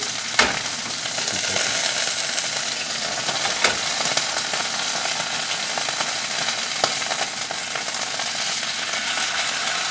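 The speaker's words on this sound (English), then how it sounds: "starting to cook through" Chicken breast fries in a pan as part of a simple dinner, producing a loud, dense and continuous close sizzle with a couple of sharp pops, and no one speaks.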